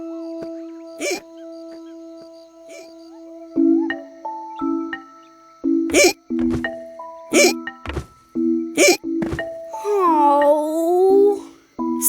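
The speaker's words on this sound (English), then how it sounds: "Sounds like you've got hiccups" A cartoon lion cub gives several loud, sharp hiccups spaced through a bouncy musical score. A short sliding, wobbly sound follows near the end.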